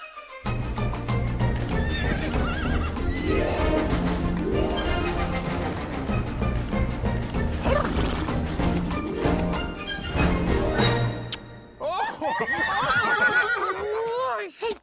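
Horses neigh and whinny loudly amid clip-clopping hooves and crashes, a dense animated scene with a voice briefly exclaiming.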